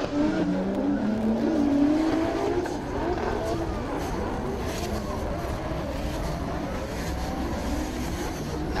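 Jason Banet's drift car races in a 2023 Pure Drift event. Its engine roars steadily and the tires squeal hard throughout, loud and close, with a rising whine early on.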